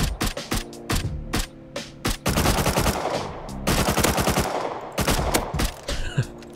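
Gunfire in the survival game Rust rattles out in rapid automatic bursts separated by short pauses, loud and punchy, with one longer sustained volley in the middle.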